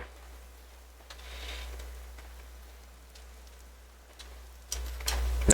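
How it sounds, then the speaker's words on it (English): Rain in the video game Vintage Story, a faint steady patter of drops on surfaces with soft ticking, growing a little louder and fuller toward the end. "It's raining."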